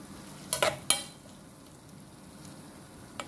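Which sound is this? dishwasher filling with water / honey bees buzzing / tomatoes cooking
tomatoes cooking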